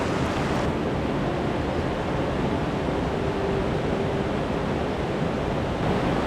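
Rapids and a waterfall at Swallow Falls on Maryland's Youghiogheny River give a constant, dense rushing roar with no break.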